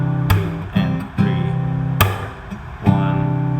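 Acoustic-style guitar chords, strummed with a percussive thump landing on beats 2 and 4; steady close rhythm with sharp hits between ringing chords.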